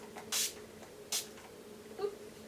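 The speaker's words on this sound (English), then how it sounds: "I'm going to wet my brush with a little bit of setting spray." Setting spray mists onto a makeup brush in two quick, faint hissing bursts, followed by a small soft sound in a quiet room.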